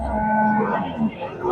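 A lean local bull at a cattle market in Gosairhat, Shariatpur, gives one loud, drawn-out moo that is close and fills most of the moment, with faint market noise behind it.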